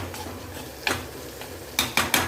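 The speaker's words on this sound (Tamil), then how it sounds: "இந்த பக்கம் நெய் பாவக்காய் குழம்புக்கு பாவக்காவை நல்லா பொரிச்சிட்ருக்குங்க." Bitter gourd pieces frying in ghee in a pan for a traditional kuzhambu, with a soft steady sizzle and several sharp clinks of a utensil against the pan, the last few clustered close together near the end.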